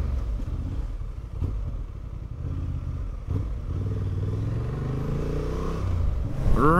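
A 2023 Honda CB750 Hornet motorcycle rides steadily with a loud, close engine drone through a quick-shifter gear change from second to third off a roundabout, then a rising rev near the end.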